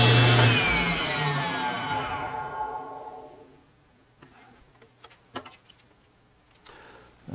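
A saw making a test cut through a wood segment for segmented woodturning starts loud and harsh, then whines down and fades over a few seconds, leaving faint clicks and handling noises.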